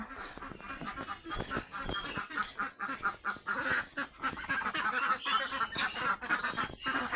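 A flock of ducks being let into a net enclosure quacks and honks busily and continuously, close by, with overlapping calls and no talking.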